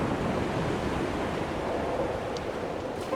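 Sea waves surging and washing ashore in the video game Dear Esther, a steady broadband wash of surf and wind with no pauses, fairly loud and even throughout with no voices.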